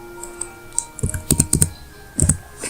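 Someone types a password on a computer keyboard to sign in to a school performance tracking app, with irregular clusters of crisp, close key clicks.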